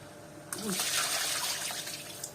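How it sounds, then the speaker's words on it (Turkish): Water from cooked food poured off through a strainer in a home kitchen, a steady broad splashing rush that starts abruptly and continues close and fairly loud, with brief faint voice sounds near the start. "ben şunu suyunu süzeyim mi arkadaşlar?"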